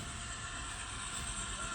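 A model train runs along a home layout, giving a quiet, steady rolling rumble that holds constant for the short stretch without distinct clacks or pauses.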